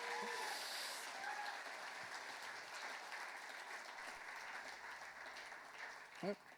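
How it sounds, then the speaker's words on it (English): An audience at a talk on sex and pleasure gives speaker Laura another round of applause, soft, distant-sounding clapping spreading steadily across the room for several seconds. "Can everybody give it one more round of applause?"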